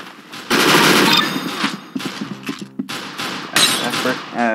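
A minigun in the Roblox game Arsenal fires in loud rapid bursts with dense crackling, mixed with other game effects and short gaps between volleys, and a voice talks over part of the gunfire.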